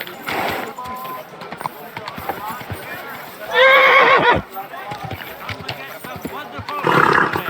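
A horse whinnies in loud bursts in the video game Kingdom Come: Deliverance II, with hoof clip-clops and a voice speaking between the calls.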